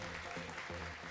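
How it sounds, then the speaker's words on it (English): An audience claps steadily through a packed hall at a StarCraft GSL Code S finals event, dense sustained applause with a faint voice underneath. "Round of applause, please, for Cure as well."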